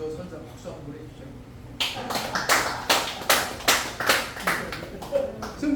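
A live audience breaks into brief rhythmic clapping, a close cluster of claps that starts abruptly after a quiet moment and continues in regular bursts, with a voice talking faintly beneath.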